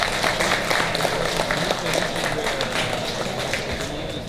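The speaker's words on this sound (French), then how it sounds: "on peut les applaudir encore une fois" A LAN-party competition audience applauds the jury on stage, a dense, steady wash of clapping from many hands with scattered sharper claps throughout.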